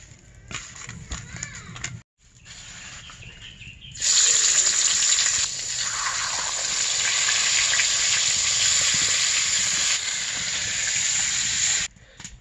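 Fish curry ingredients sauté in oil in a pan over a clay stove in a village kitchen, a loud continuous hissing sizzle that swells suddenly after a short pause and stays close and steady before cutting off.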